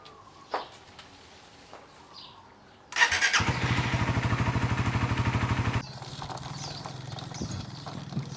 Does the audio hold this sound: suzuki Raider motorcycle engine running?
yes